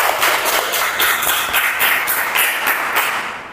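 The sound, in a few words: applause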